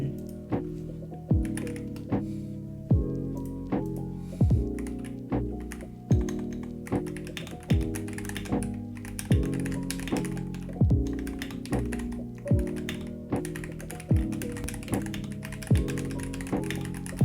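Typing on an Akko PC75B mechanical keyboard fitted with unlubricated Jelly Black switches, a steady run of close, deep keystrokes in a regular rhythm with no talking.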